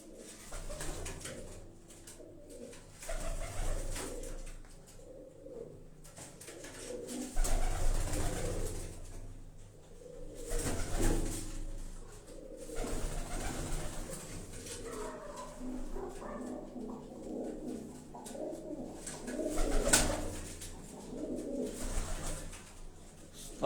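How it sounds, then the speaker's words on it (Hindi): Migratory pigeons cooing at a house, their repeated soft coos overlapping in a loose rhythm, with a dog barking now and then and a steady background hum. "उन्होंने घर से प्रवासी कबूतर तुहानू दिखा रहे हैं जी"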